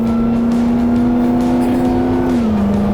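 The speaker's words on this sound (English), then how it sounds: "we're accelerating onto the highway at a normal pace" A Hellcat-swapped Jeep Wrangler on coil springs and shocks accelerates onto a highway at a normal pace, its engine holding a steady, loud drone inside the cabin that dips slightly in pitch near the end, with no talking.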